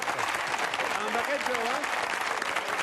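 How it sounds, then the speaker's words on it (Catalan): Studio audience applause at a Catalan TV interview show, a steady dense patter of clapping throughout with someone speaking over it. "Jo crec que és un aplaudiment obligatori"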